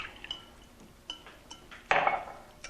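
Half and half poured onto eggs in a big mixing bowl gives a short splashy burst near the end, preceded by a few light clinks of a container against the bowl.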